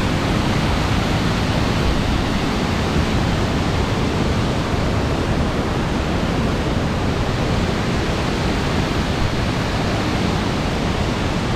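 The Pliva river waterfall at Jajce roars as a loud, steady, unbroken rush of falling water, heard up close and alone.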